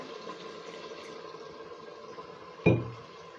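Water goes into a pot of chicken handi in one short, loud splash near the end, after a quiet stretch of low kitchen background.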